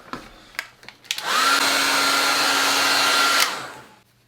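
A hair dryer drying a watercolour painting starts after a few faint taps, blows a loud steady whoosh with a whining tone for about two seconds, then switches off.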